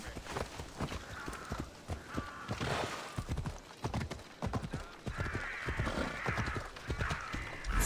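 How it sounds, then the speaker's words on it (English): Rhythmic clip-clop of horse hooves trotting close by in the video game Assassin's Creed: Odyssey, with a few faint whinny-like and bird-like calls over the steady beat. "Horse."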